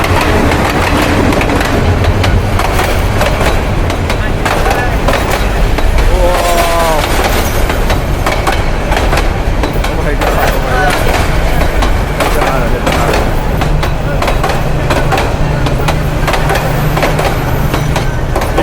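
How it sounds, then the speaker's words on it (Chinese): A loud train rumbles and clatters past very close in Bangladesh, shaking the floor, continuous heavy rolling noise throughout, with excited voices calling out over it. "我们现在离火车非常近，整个地板都在震动"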